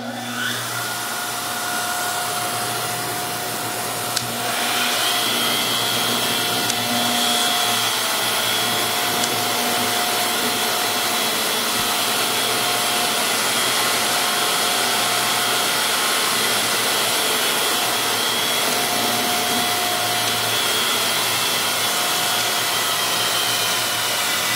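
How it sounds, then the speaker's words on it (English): Carver heads on a Terrco Northstar 20-4 duplicator carver running steadily, a loud continuous motor whine with a slight rise in pitch as they spin up, no talking. "We're gonna go ahead and turn those heads on real fast."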